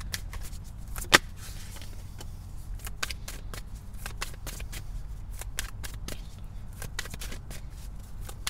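Oracle cards are shuffled by hand in a series of quick crisp riffling flicks, irregular and close, continuing steadily over a quiet background.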